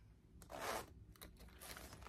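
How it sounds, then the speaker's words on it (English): A frost-blue Kipling Creativity pouch, the smallest size, is unzipped with one close, drawn-out zipper rasp followed by softer scraping zip pulls, and there is no talk. "So when you unzip it,"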